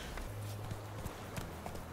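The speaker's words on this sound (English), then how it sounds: "Oh yeah, my horse is here." Horse hooves clip-clopping in The Witcher 3, a few soft, close steps at an uneven walking pace over a steady low background hum.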